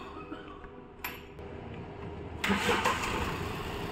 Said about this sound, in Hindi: और ये गाड़ी हो गई एक ही बार में स्टार्ट